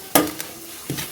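Oil heating for the tempering of a wood apple (velakkaya) roti pachadi gives two short, crackling sizzle bursts about a second apart, with quiet kitchen background between them.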